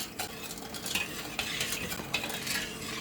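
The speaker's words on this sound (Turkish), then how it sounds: "Arada sırada karıştırıyorum şeker eriyene kadar ki şekerim yanmasın diye." Spoon stirring sugar syrup in a pot on the stove while it heats, a soft scraping swish with light clinks against the metal, repeating every second or so, close and alone.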